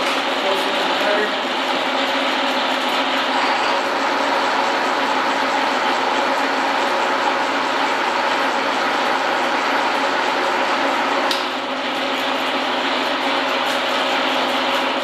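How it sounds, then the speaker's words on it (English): A 1946 Induma horizontal mill, model UR-2, runs with its spindle engaged as a cutter works toward stock, giving a steady, loud mechanical whir with a faint ticking texture that holds for the whole stretch, dipping briefly near the end. "Now, the spindle engaged, go ahead and feed the cable closer to the cutter."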